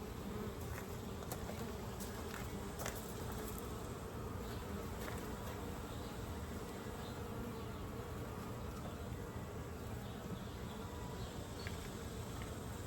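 Honey bees buzz around open beehive frames while some cluster together, making a dense, steady hum heard up close with no talking.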